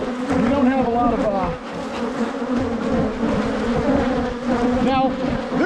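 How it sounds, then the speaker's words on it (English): A dense swarm of honey bees drones steadily around open hives during a summer honey harvest, a loud, continuous near buzz with shifting pitch as individual bees fly close past. "there are a lot of bees out here. They're not happy with me."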